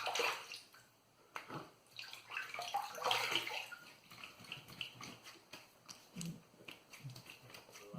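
Water splashes and runs faintly while a Baili Victory safety razor is rinsed after a shave, making irregular close-up trickles and splatters with short pauses between them.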